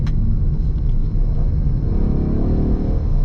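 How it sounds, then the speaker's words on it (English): A 2024 Ford Mustang 2.3 EcoBoost turbo four-cylinder engine rumbles steadily up close, a deep rough growl that rises slightly in pitch toward the end, with no voices. "the engine sounds a little bit rough in my opinion"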